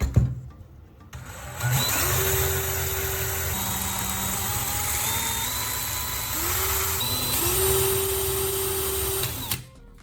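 A small drill motor whirs steadily as it spins graphite rod tips against fine grit sandpaper, its pitch shifting up and down, with a buzzing grind throughout and a sudden stop at the end.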